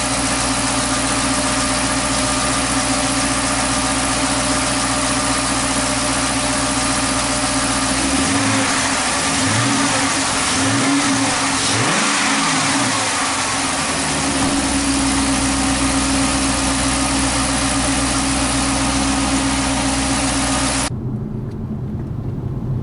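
A Chrysler 300, being checked after a P0300/P0302 misfire repair, runs at a steady, loud idle, a continuous humming drone with a brief wavering swell midway before cutting off near the end.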